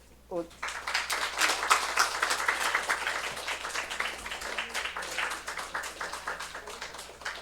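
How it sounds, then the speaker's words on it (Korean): Church congregation at a Sunday morning service applauding, a burst of many hands clapping that swells quickly and stays loud before thinning out, with a voice heard at the very start. "박수로."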